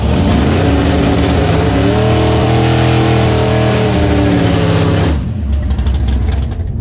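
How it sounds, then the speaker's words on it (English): A Camaro drag car revs hard at close range, its loud engine climbing in pitch for several seconds before cutting off abruptly into a rumbling idle. "The Camaro sounds good."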